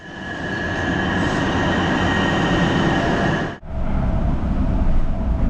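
A Seattle light rail train rumbles and hums loudly nearby, with a steady high whine; the noise briefly dips, then the rolling rumble continues.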